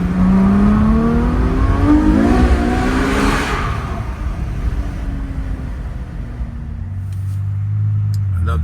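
Ferrari F12 with its V12 engine on a drive, heard from inside: the engine climbs in a loud, rising rev, then eases off into a lower cruising drone with road rumble.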